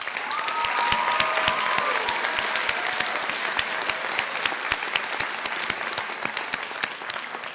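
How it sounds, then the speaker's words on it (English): Graduation crowd applauding for the class of 2016, a dense, steady roar of many hands clapping close and loud throughout, with a brief whistle early on and faint voices mixed in. "give a round of applause to Ms."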